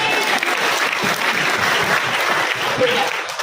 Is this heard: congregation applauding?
yes